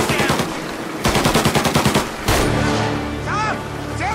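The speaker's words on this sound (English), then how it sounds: "When combat breaks out here, the player must use a combination of tactics and weapons to defend Sam." Loud bursts of rapid automatic gunfire in combat in the Mafia remake video game, with rhythmic machine-gun volleys followed by a heavy blast and echoing aftermath up close.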